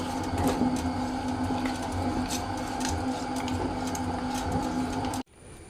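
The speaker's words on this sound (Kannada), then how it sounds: "ನೋಡಿ ಮೀನು ಸಾರಿಗೆ ಮಸಾಲ ಗ್ರೈಂಡ್ ಆಗ್ತಾ ಇದೆ" A mixer grinder churns fish curry masala in a continuous, rattling mechanical drone at steady loudness that cuts off abruptly near the end, leaving quiet room noise.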